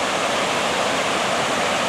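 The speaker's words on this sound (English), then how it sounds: "The sound of this water rushing is so amazing." Rushing water at High Falls State Park in Georgia, a loud, steady, broadband roar of falling water, continuous and close with no voices.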